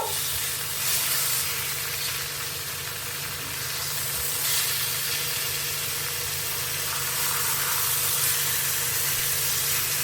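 Chicken sears in a hot pan with a loud, continuous sizzle and frying hiss, a low steady hum beneath it, and no talking.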